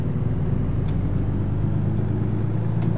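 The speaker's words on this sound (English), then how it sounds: "So that's basically a little bit of American Truck Simulator." A truck in American Truck Simulator drives and picks up speed, its engine giving a steady low drone and rumble that holds throughout, with a few faint higher clicks above it.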